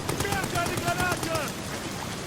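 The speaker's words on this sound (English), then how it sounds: "Oh, that's another grenade." Grenade blast and rumbling gunfire in the WW1 horror game Amnesia: The Bunker, a dense, loud burst of crackling explosion noise that fades over about two seconds.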